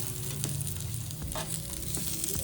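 Potatoes fry in a pan, a steady close sizzle and crackle with a few soft scraping stir sounds, no voices.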